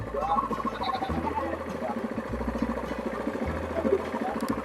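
Goats bleating around a riverside village in East Java, mixed with a steady idling engine rumble and some background chatter, moderately loud throughout.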